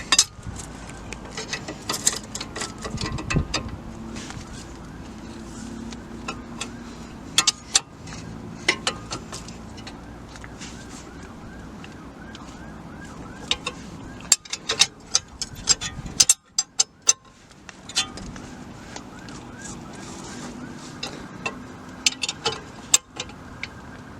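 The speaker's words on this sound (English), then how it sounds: "just get a long spanner in there" Car wheel nuts being tightened by hand with a long spanner after an impact gun, heard as sharp metallic clicks and ratcheting knocks scattered over a quiet workshop background.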